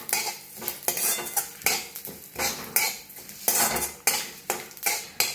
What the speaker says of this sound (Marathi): आता शाई जिरा घेतले बघा, ते बी हलकं भाजायचं।